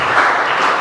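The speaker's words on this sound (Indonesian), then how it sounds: "Berikan sorak-sorak kepada Tuhan." A church revival congregation in Palembang bursts into applause and cheering for God, a brief, loud, dense burst of clapping close by.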